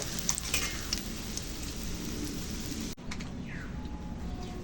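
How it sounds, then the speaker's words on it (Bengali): Small rohu fish frying in a pan of hot oil give a steady, dense sizzle that goes on without a break, fairly faint, with a brief drop partway through and a few light clinks. "এই দেখো মাছ ভাজা হয়ে গেল"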